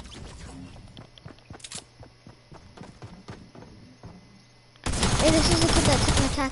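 Rapid SMG gunfire in a video game crackles as short repeated bursts, then turns into a loud, dense stretch of continuous shooting near the end.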